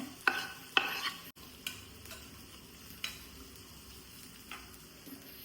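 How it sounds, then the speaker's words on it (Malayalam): Onion, ginger, garlic and green chilli sauté together with a soft background sizzle, broken by a few sharp ladle knocks and scrapes against the pan, spaced irregularly and fairly close. "ഇതേ സവാള, ഇഞ്ചി, വെളുത്തുള്ളി, പച്ചമുളക് ഇത്ര ഒരുമിച്ചിട്ട് കൊടുക്കുവാണേ."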